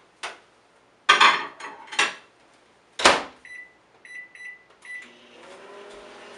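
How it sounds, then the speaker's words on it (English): A kitchen microwave oven warming four wool yarn swatches: a door clunk and clatter, a few short beeps, then a steady low hum of the oven running. "I'm going to put them in the microwave for 2 minutes to warm them up."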